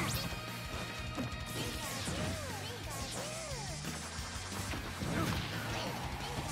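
Lucario's charged forward smash lands in Super Smash Bros. Ultimate, a sharp crash amid busy game effects, whooshes and crowd noise, with commentators talking throughout.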